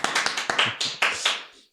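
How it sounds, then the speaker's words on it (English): A handful of people clapping at a podcast-style show, about eight distinct sharp claps in a loose rhythm, close and clear, tapering off at the end. "Let's clap it up again."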